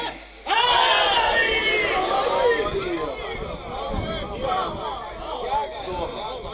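A large crowd at a 16 Rajab religious gathering in Qazi Chak, Gujrat, raises loud, sustained chants in unison, the voices swelling together and then continuing in waves of massed shouting up close.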